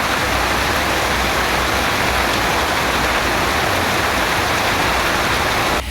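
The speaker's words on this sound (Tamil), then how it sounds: "குறிப்பாக சீர்காழி சுற்றுவட்டார பகுதிகளில் மாலை நேரத்தில் திடீரென கனமழை பெய்தது" Heavy, sudden evening downpour in the Sirkazhi area, a dense, loud, unbroken hiss of rain pouring steadily from start to finish, with no voices.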